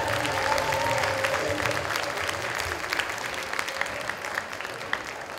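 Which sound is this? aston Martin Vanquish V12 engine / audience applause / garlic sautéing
audience applause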